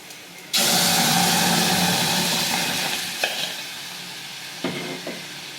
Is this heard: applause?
no